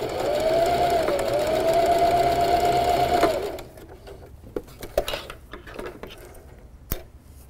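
A sewing machine stitches a fabric bat treat bag in one steady, loud run of about three seconds, then stops, leaving quiet handling clicks and taps.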